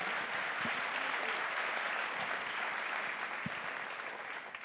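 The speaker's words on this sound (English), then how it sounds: "round of applause for the cast" Audience applause for the cast at a film Q&A screening, a steady dense wash of many hands clapping that holds evenly throughout and tapers slightly at the end, with no talking over it.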